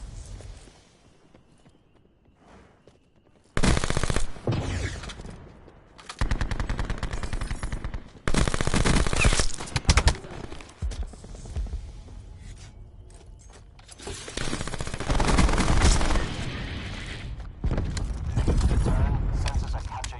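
Rapid automatic fire from a VMP submachine gun in a solo team deathmatch shooter game, loud bursts of varying length repeating after a quiet opening, with mechanical clicks and footsteps between volleys.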